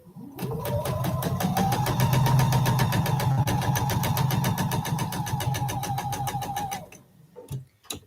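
A sewing machine stitches a quilt block in a fast, steady rhythm for several seconds, then stops, followed by a couple of sharp clicks.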